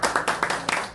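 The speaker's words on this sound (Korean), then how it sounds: "큰 박수로 모시겠습니다." Brief applause at a small-business management course opening ceremony, a short burst of close, evenly spaced hand claps.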